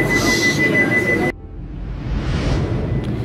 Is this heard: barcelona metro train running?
yes